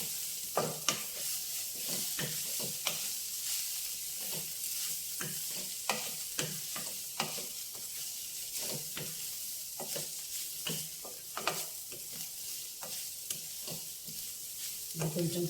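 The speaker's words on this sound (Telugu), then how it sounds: "కొంచెం పచ్చి వాసన పోయేంత వరకు వేగాలండి" Beetroot sizzles steadily in a pan while a spoon stirs it in frequent scraping strokes, a soft close frying hiss throughout with no voices.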